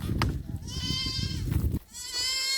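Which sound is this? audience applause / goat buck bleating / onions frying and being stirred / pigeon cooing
goat buck bleating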